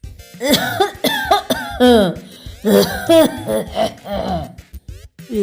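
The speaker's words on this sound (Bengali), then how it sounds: "উত্তরে ভূত আবার ঘুম ঘুম করে কাশলো" A narrator voicing a sleepy ghost gives several drowsy coughs and throat-clearing sounds between stretches of spoken narration in a Bengali audiobook, close and clear.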